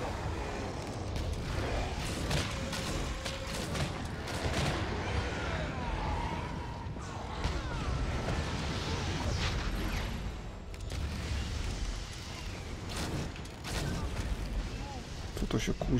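Explosions and booming blasts go off repeatedly in Dragon's Dogma: Dark Arisen during a fight with the Ur-Dragon, the dense bursts of combat noise at times overlapping with someone talking.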